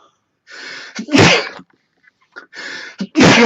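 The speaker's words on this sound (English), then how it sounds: "Sorry, guys, I'm going to sneeze." Two sneezes, each with a sharp inhale before the explosive burst, spaced a couple of seconds apart and close to the microphone.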